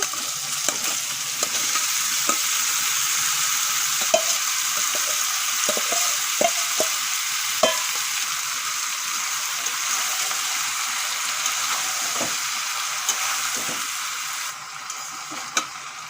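Spiced green jackfruit with lightly fried prawns frying in a pan, a steady bright sizzle running throughout with scattered stirring clicks and scrapes of a spatula, close and fairly loud.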